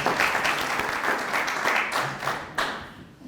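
Audience at a literary book presentation in Cascante applauding a guest author, a dense burst of clapping from a room of people that stays strong and then thins out toward the end.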